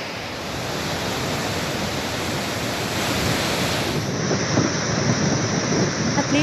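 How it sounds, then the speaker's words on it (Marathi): Water roars out of the six gates of Manjra dam in Latur, each opened three metres, as a loud, continuous rushing torrent that holds steady throughout. "धरणाचे 6 दरवाजे 3 मीटरनं उघडलेले आहेत आणि नदीकाठच्या गावांना सतर्क राहण्याचा इशारा दिलाय"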